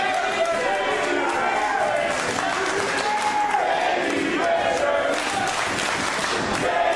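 A wrestling crowd at a tag-team match roars continuously, a loud, steady wash of cheering with excited commentators talking over it throughout.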